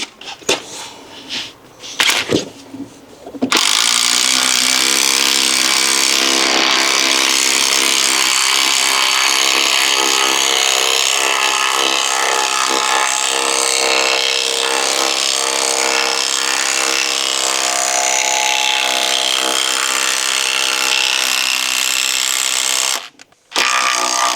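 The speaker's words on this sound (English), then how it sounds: "it is doing okay when it comes to driving in these concrete screws though" A Bosch 18V impact driver drives a 12mm concrete screw in one long, loud, continuous hammering burst lasting about twenty seconds, with a brief pause near the end before it resumes.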